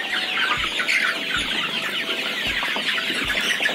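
Many broiler chickens in a poultry farm cluck and chatter together in a continuous busy din, with a few low thumps at intervals.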